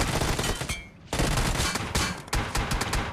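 Rapid continuous gunfire in the mobile battle royale game BGMI, dense loud bursts with a brief pause near the middle, close and without any talk.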